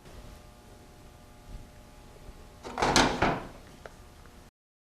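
A bushing driver with a 3/4 inch mandrel knocks a seal into a Powerglide drag race transmission case, a quiet lead-in followed by a short cluster of sharp metallic taps near the middle, close and alone.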